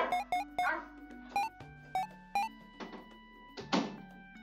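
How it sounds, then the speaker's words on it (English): Dogs in the game Leaf Blower Revolution bark and yip in a quick series of sharp, bright calls, about ten in a row, fairly close and moderately loud. "My dogs are barking!"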